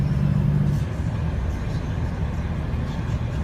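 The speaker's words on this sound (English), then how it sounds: "engine brake's absolutely awesome on this thing" A Sportchassis truck slows on its engine brake, a steady, loud low rumble that holds evenly throughout without any clear rise in pitch.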